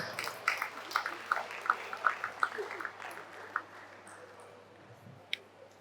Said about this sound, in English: A round of applause, please, as the presentation goes ahead.